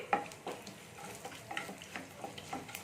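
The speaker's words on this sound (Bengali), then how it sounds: "এটা দিয়ে আমি একটু ভেজে নেবো আমি এখানে জিরে সর্ষে আর তিল দিয়ে দিলাম" Mustard seeds, cumin and sesame seeds fry in a spoonful of white oil with a faint sizzle and scattered small pops and crackles. The sound is quiet and close.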